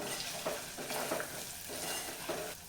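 A spoon stirs coriander powder, turmeric and garam masala in a hot pan, a soft continuous sizzle with rhythmic scraping strokes about every half second, close up and with no voices.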